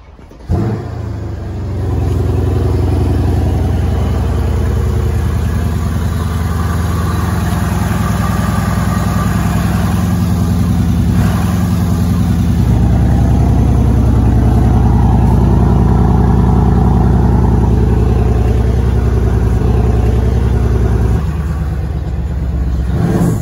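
A Mercedes W212 E63 AMG V8 fires up and settles into a steady, loud idle with a deep rumble that runs nearly throughout, with a slight rise in revs midway.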